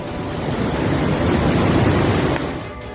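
Ocean waves wash onto a flooded beach in Türkiye after extreme rainfall, a loud, continuous roar of surf and rushing water with wind buffeting the microphone, swelling and easing slightly without any voices.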